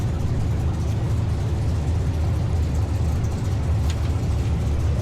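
Gasser drag race cars at a vintage drag racing event, including a 56 Chevy, roar loudly in a steady, dense engine rumble with no talk.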